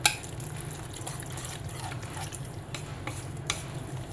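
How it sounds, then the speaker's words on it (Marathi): Steady wet stirring and sloshing of a thin jowar flour and mixed vegetable batter in a bowl, with occasional soft clinks of the spoon against the side. "हे मिक्स करून घेऊया आपण"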